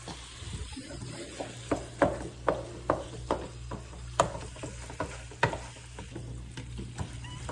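A spoon stirs a big, heavy batch of meat sauce in a pot, knocking against the sides in a steady rhythm of close, distinct scrapes and thumps over a soft sizzle.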